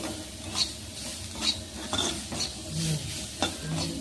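Chopped carrots fry in a pan under a soft sizzle as a spatula scrapes through them in a regular stirring rhythm, about one stroke each second, close up with no voices.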